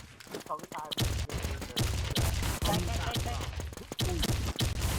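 Rapid bursts of gunfire from a Thai clan match in the shooter game 97, loud and repeated in quick volleys throughout, with players' voices talking underneath.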